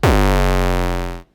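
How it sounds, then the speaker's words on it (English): A loud, buzzy 808 kick made with a square wave in the Xfer Serum synth hits once, its pitch dropping fast into a sustained, gritty low boom that cuts off abruptly. "we could choose a square wave, and then it sounds like this"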